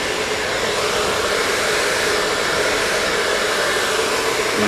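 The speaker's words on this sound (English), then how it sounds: "By using our round brush and our blow dryer." Blow dryer used with a round brush while styling hair after a haircut: a loud, steady broadband whoosh of blowing air that holds constant and close throughout, with no speech.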